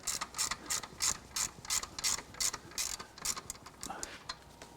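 A hand ratchet clicks in a steady run of about a dozen sharp ticks while tensioning the drive belt on a Mercedes OM616 diesel engine, close and clear with no talking.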